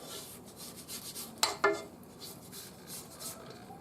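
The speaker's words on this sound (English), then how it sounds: "So what we're going to do is we'll scrape the sides" A small spatula scraping the sides of a bowl of banana bread batter, a couple of sharp scrapes and clinks against the bowl amid soft rubbing sounds, fairly close.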